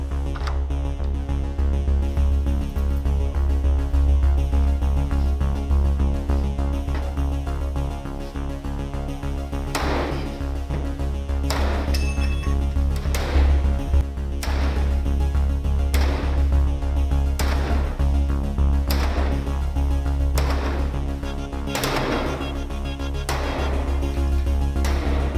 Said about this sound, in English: 21 sledgehammer strikes.